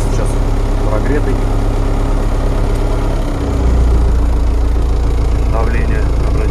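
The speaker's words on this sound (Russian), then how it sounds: "Трактор завелся. Трактор, кстати, сейчас прогретый." A 2003 MTZ-82.1 tractor with 3,700 operating hours, already warmed up, idles after starting with a steady low diesel throb that rises and firms up midway. Someone talks over the engine.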